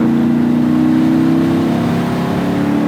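An LT1-powered Bandit Trans Am tribute car accelerates hard, its engine note climbing steadily in a loud, close, continuous roar with no voices.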